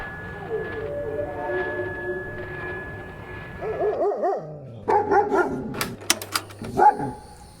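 Dalmatian dogs bark in short bursts, getting louder and more frequent toward the end, over a steady background hum.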